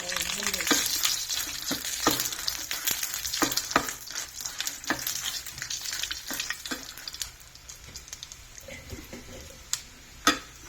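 Coriander seeds, mustard seeds, fenugreek and dried red chillies frying in hot oil, a loud continuous sizzle and crackle with occasional sharp pops and stirring clinks, easing off toward the end.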